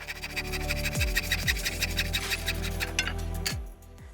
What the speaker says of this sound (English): I'll get this first one cut with a handsaw